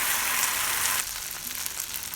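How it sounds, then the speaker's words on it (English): Rava uthappam batter hits a hot dosa pan and sizzles loudly, a steady hiss that drops back to a softer crackle after about a second. "Heat the pan and add 1 ladle of batter to the dosa pan"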